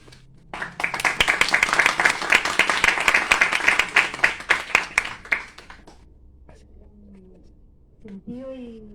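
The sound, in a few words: audience applause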